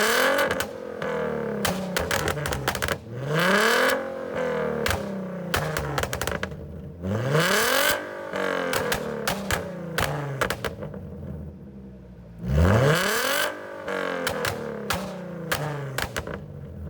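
A Nissan 370Z with a tuned exhaust revving hard again and again, each rise in pitch ending in loud crackling pops, close up and with no talking.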